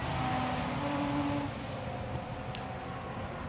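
A Radical SR3 race car brakes through a chicane at Estoril during a Radical European Masters race, engine note dropping from a loud whine to a lower steady drone, heard from trackside.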